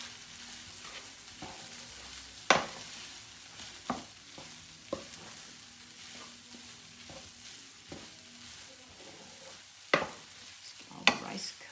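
Rice is stirred through a hot frying pan for Cajun chicken and rice, with a steady low sizzle and sharp spatula scrapes and taps against the pan at irregular moments.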